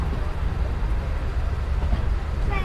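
A toy train runs at Rushikonda in Vizag, giving a steady, close, low rumble of rolling wheels that continues without a break.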